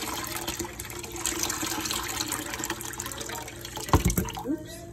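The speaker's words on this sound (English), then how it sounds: "now I'm gonna dump the water out so you can see just after a few minutes" Water from a produce wash being poured out of a container, a steady broad splashing rush that ends in a few louder sloshing bursts near the end.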